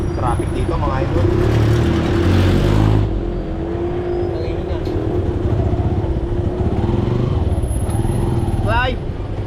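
Busy street traffic of cars, motorcycles and buses rumbles up close. One vehicle revs loudly and passes in the first few seconds, then a steady churn of idling and moving engines follows, with brief horn-like tones and voices talking over it.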